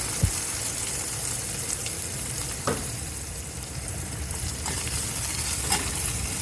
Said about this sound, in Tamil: வெங்காயம் லேசாக செவக்கிற வரைக்கும் வதக்கிட்டு